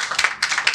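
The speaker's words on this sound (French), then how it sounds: "on applaudit pour lui." A brief burst of group clapping at a French team training session, several quick claps close together over less than a second.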